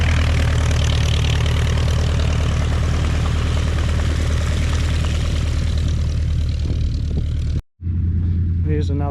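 Steady drone of a light aircraft engine idling close by, a Piper Cub seen on the ground at a fly-in breakfast, holding constant for several seconds before briefly cutting out.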